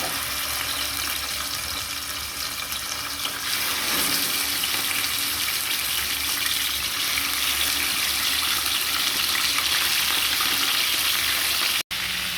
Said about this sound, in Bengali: এখন মোরগ পোলাওর জন্য মুরগিটা একটু হালকা ভেজে নেব।